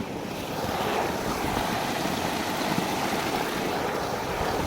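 Water rushes forcefully through a farm irrigation channel feeding banana and coconut plantations, a steady loud broadband gush that holds unbroken throughout with no voices.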